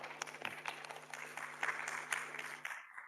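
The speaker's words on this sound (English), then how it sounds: "Let's give it an applause," Audience applause for a speaker at a TED-style talk, a steady wash of many hands clapping at a moderate distance over a faint background hum, fading out near the end.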